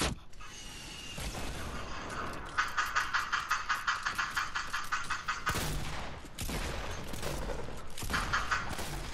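A grenade launcher in Fortnite fires in a steady rhythmic run of punchy shots mixed with other gunfire bursts, loud and close, with brief voices talking between volleys.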